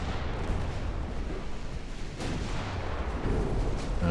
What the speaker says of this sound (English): And we do score a torpedo hit on an enemy battleship.